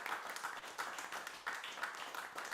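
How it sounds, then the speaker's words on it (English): Scattered applause from a small audience at a traditional singing session in an arts centre, fairly faint and thin, with a few bursts of clapping rising and falling over a couple of seconds. "Big round of applause for Roz and everybody here."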